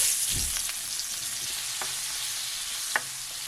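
A bay leaf sizzles in hot oil with diced potato for egg biryani, a continuous close frying hiss with a few light clicks and taps, no talking.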